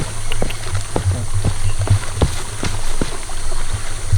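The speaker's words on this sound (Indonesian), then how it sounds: "kita lewatin anak sungai ini" A small stream near Bukit Klangon below Mount Merapi, its water flowing steadily while footsteps cross it with soft, evenly spaced taps over a constant low trickle.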